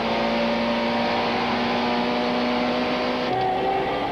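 A 1995 Super Touring race car engine droning steadily as it comes into the pits at Killarney, a loud continuous tone that shifts pitch near the end.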